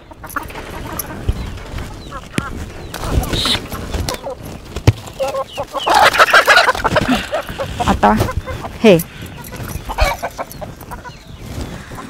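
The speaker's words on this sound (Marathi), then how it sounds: "इथं जेवढ्या कोंबड्या आहेत त्या सगळ्या देशी आहेत" Native desi chickens cluck and squawk close by in a loose, agitated series, with rustling, flapping and scuffling as birds are handled, plus occasional shuffling steps in between.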